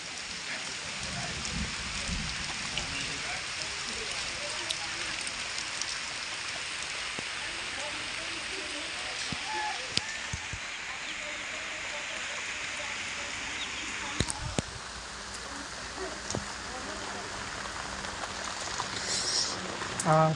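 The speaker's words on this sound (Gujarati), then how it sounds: "અત્યારે વરસાદ બી પડે જ છે" Rain falling steadily in a village during the first rain of the season, a constant even hiss with a few louder drips and knocks, and brief talk in places.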